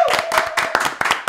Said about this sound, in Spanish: Un aplauso para Polima, muchacha.